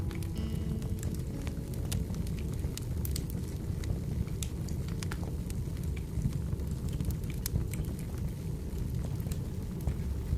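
A campfire burns with steady low rumbling and scattered sharp crackles and pops throughout, fairly even and continuous with no voices.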